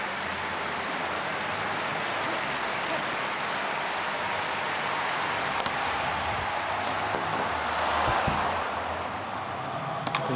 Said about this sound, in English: Big groan from the crowd.